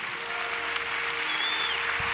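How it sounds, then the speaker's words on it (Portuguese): A church congregation on its feet applauds in a steady, dense wash of clapping that fills the room, with a faint sustained tone underneath and a soft low thump near the end. "Vamos abençoar Jesus com um aplauso"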